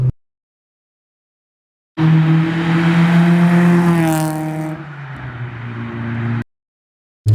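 A Honda Civic EG4 VTEC engine revs hard and climbs steadily in pitch, then drops back and settles into a lower drone, loud and close, with no talking.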